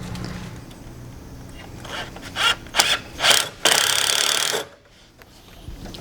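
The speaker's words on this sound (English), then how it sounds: "And now we're going to attach the screws." Screws are driven to attach hinges on a driveway or fence gate, heard as several short, loud buzzing bursts followed by one longer run that stops abruptly, over a steady background.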